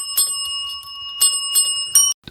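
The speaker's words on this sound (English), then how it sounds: "hit the little bell notification every time you want to get notified" A notification bell sound effect dings several times in quick succession, bright metallic rings with sustained tones, loud and close, ending abruptly.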